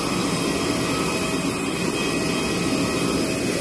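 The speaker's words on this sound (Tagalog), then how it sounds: "Pasakay na ako ng aeroplano." Airliner jet engines roar steadily at Cebu airport, a continuous loud broadband whine and rumble that fills the whole stretch without letup.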